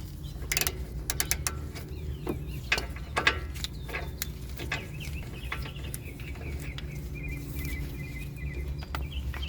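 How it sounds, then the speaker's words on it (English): A ratchet with a 19mm socket works a stuck rear brake caliper bolt on a Lexus IS250, giving bursts of sharp metallic clicks over a steady low background hum, close and moderately loud. "I'm going to use a 19mm socket. Get on that caliper bolt."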